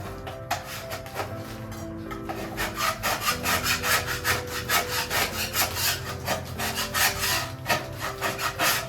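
A scraper is pushed over a wooden table coated in softened paint remover. It makes rapid, rhythmic rasping strokes, close and steady, that speed up into a regular back-and-forth scrape.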